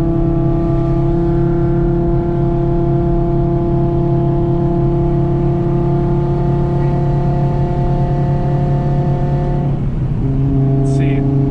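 Audi RS3 with upgraded fuel lines pulling hard in 4th gear on a test run, a loud sustained engine drone with steady rising harmonics heard from inside the car, dipping briefly near the end then carrying on.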